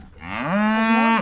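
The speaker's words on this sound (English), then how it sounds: "We're all black cows." A black Angus cow on a farm gives one long, loud, close moo that rises in pitch and holds steady before cutting off, heard alone without talk.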